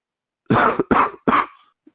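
Three harsh coughs in quick succession, close and loud, followed by a tiny faint sound and then silence.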